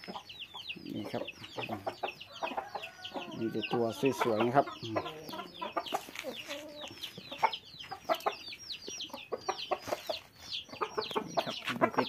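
Fighting cocks on a Thai farm cluck and crow repeatedly, close by, while someone talks over them throughout.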